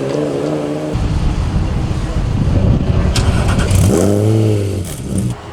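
Porsche 996 GT1 race car at a track, its engine droning loud and near, then revving with rising and falling pitch sweeps; someone talks over the start.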